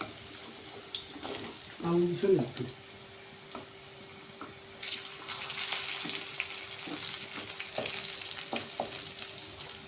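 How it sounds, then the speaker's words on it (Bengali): Jackfruit seed koftas frying in oil until browned, giving a continuous bubbling sizzle with a brief louder splash of stirring early on and a few light clinks, heard close with faint background sounds. "লাল লাল করে ভেজে নিচ্ছি আমি কিন্তু তো লাল করে ভাজতে হবে"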